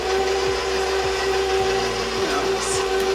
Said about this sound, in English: So I'm going to cut it starting on stir.